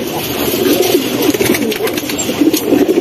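A large, all-black male pigeon coos close by in low, rolling repeated calls, steady and fairly loud throughout.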